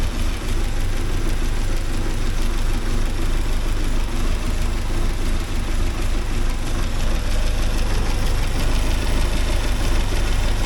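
A 1979 Porsche 924 engine idles steadily while warming up, a continuous close, loud rumble with a fairly even rhythm throughout, and no talking over it.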